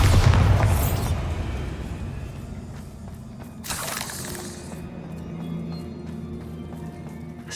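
A Bombarda blasting spell in Hogwarts Legacy explodes with a heavy boom and shattering debris at the start, then fades into a rumbling, crumbling tail, with a second smaller burst of crackling debris midway.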